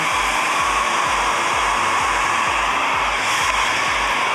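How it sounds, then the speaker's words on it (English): A hair dryer blow-drying hair after dry shampoo roars steadily and loudly up close, with a broad constant whoosh and a low pulsing hum underneath, and no one speaks over it. "just blow dry it before you start to use your tools"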